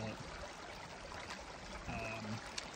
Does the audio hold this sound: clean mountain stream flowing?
yes